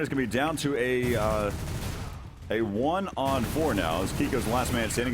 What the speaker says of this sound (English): he's getting under a lot of gunfire